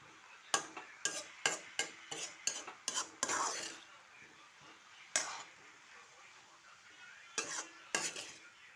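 A spoon stirs a taro leaf mixture in a pan, scraping in quick rhythmic strokes for a few seconds, then in a few sparser scrapes over a faint sizzle, close and with no talking.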